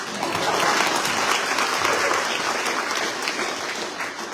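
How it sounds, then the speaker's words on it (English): An audience at an awards event breaks into dense, sustained applause, a steady wash of many hands clapping at once with no break across the stretch. "You can clap for that again, please."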